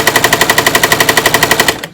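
A sewing machine fitted with a walking foot rattles loudly in a fast, steady mechanical stutter like machine-gun fire, about ten beats per second, running continuously before stopping abruptly.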